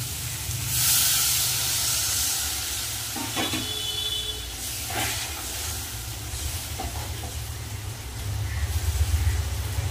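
Water poured into a hot pan of Aila fish curry, a loud hissing rush of steam at first that settles into steady bubbling sizzle, punctuated by a few stirring clanks.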